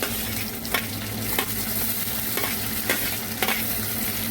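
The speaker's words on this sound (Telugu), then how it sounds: "మెత్తళ్ళు కొంచెం గోల్డెన్ కలర్ వచ్చే వరకు ఫ్రై చేసుకోవాలి." Small dried fish fry in a pan of hot oil, a steady dense sizzle with stirring scrapes recurring roughly every half second to second throughout, close and continuous with no voices.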